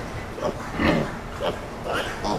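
A frightened pig in a barn gives a run of close grunts and oinks in uneven bursts over a steady noisy background.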